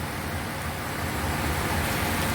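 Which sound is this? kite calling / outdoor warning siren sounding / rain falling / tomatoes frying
rain falling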